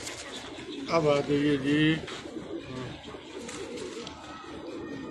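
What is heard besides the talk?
Rampuri pigeons cooing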